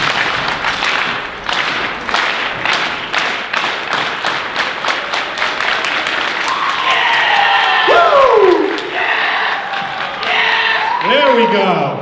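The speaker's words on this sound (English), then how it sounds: "Slow clap." A school assembly crowd claps slowly in unison, sharp evenly spaced claps that gradually quicken, then dissolve into cheering, whoops and a voice over the noise.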